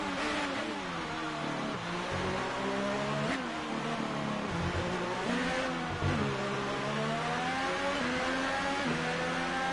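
The engine of a McLaren Formula 1 car in the F1 2018 video game at the Mexican race drones steadily, rising and falling in pitch through repeated revving shifts, loud and continuous with no talk.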